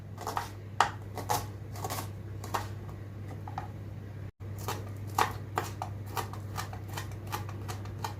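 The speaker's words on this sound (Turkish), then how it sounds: "5 adet yeşil soğan onu da güzel doğrayalım ince ince." A knife chops green onions finely on a cutting board in a steady run of sharp taps, close by, with a low hum underneath.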